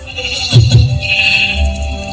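A sheep bleats in a Christmas skit about shepherds, one short loud wavering bleat near the middle followed by a fainter, higher drawn-out cry, with a low hum beneath.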